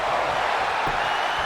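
A broad, continuous roar of a virtual wrestling crowd from WWE 2K22, with steady cheering at an even, loud level and no voices standing out.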